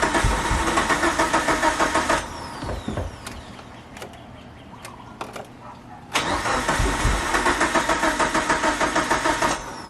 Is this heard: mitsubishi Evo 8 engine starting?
yes